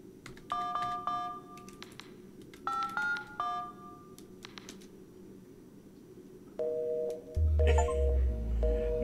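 Electronic dial tones beep in short bursts during a phone call in Five Nights at Freddy's: Into the Pit, followed by a steady ringing tone and a low synthetic rumble near the end, with no voices.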